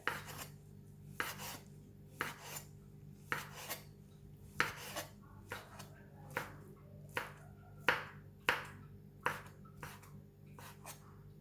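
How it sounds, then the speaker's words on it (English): A knife slicing a thin fried omelette into fine strips for egg fried rice on a board: crisp, evenly spaced chops, about one per second, close and fairly quiet. "We're going to cut it into stripe. cut into very thin strips."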